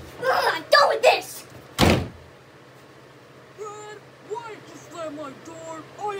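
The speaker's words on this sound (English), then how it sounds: "The second bad habit I'm doing is slamming doors whenever I'm upset" A door slams hard in a home, a sharp loud impact after brief agitated shouting, followed by quieter chirping tones in the background.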